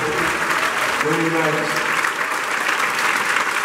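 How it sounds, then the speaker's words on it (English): An audience applauds a band at a live Trammps concert, clapping steady and full while someone speaks briefly over it. "So how about giving a round of applause to my group?"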